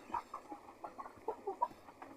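Chickens raised for healthy consumption cluck softly in their coop, a quiet scatter of short murmuring clucks and low calls overlapping through the moment.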